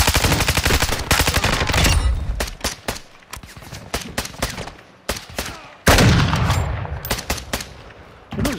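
Rapid bursts of automatic gunfire and single shots in a Call of Duty DMZ match, loud and close at first, thinning into scattered shots, then a heavy burst erupting again near the end.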